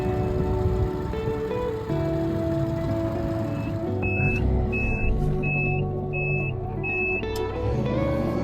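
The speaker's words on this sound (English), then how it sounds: "I keep forgetting to turn the indicators up. I don't want the beeper on." A car's indicator beeper ticks in a regular series of short, high repeated beeps over a running car engine and cabin noise, fairly close and clear.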